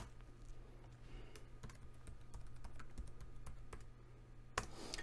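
Quick, light clicks of keys on a computer keyboard as an IP address is entered, a run of close, crisp taps with a brief louder tap near the end over a low steady hum.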